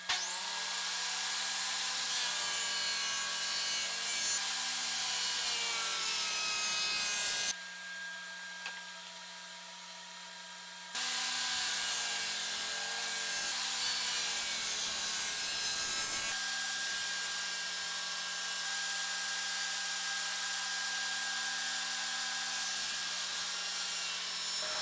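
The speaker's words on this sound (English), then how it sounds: "all I'm going to do is take my other board and run it right through, and then I can adjust the dado for the next one" A dado cut run through a wooden board for upper cabinet sides, with a steady power-saw whine over several passes, briefly dropping out in the middle before resuming, close and loud without talk.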